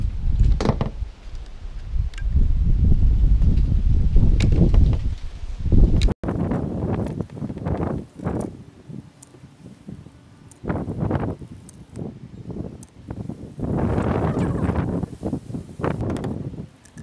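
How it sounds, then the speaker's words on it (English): Wind gusts buffet the microphone on a rooftop beside a solar panel, a loud, roaring rumble that surges and drops in uneven bursts with short lulls between. "Sorry if it's a bit windy."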